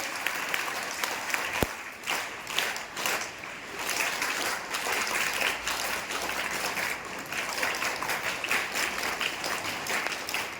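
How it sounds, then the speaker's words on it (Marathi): An audience of students at a high school education-week cultural programme in Barshi gives a burst of sustained applause for the sixth-grade children, with dense clapping from start to finish and one sharp knock near the beginning. "सर्वांनी 6वीच्या मुलांचं टाळ्या वाजवून कौतुक करायचं आहे"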